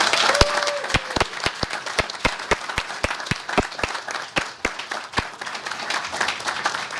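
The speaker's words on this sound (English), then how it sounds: "May we give her another round of applause." An audience at a partners celebration gives a round of applause, light scattered clapping with sharp individual claps standing out in a loose rhythm over a soft crowd hum.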